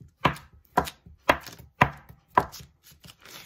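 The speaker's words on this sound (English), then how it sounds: "I'm going to cut up the butter into little chunks" Knife cutting butter into small chunks on a board: five crisp, evenly spaced chops close by, then lighter, quicker taps trailing off.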